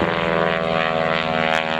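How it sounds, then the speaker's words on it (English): Aerobatic airplane with a 102-inch Macaulay propeller flying at an airshow, a loud steady propeller drone with strong harmonic engine tones holding throughout, no voices. "You can hear that 102-inch long Macaulay prop."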